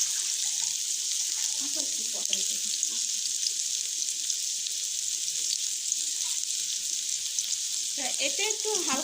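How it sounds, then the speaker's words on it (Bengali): Onions go into hot oil with cardamom, cloves, star anise and cinnamon for a beef curry, giving a steady, bright, crackling sizzle. A voice speaks briefly near the end. "তো তেলটা গরম হয়ে গেছে, আমি এখন পেঁয়াজগুলো দিয়ে দিচ্ছি"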